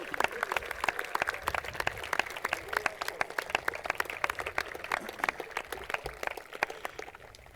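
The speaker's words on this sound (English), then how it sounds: "give them a round of applause" Graduating high school students clap together for their teachers and administrators at a graduation ceremony, a steady crowd of dense, sharp handclaps filling a large space for several seconds.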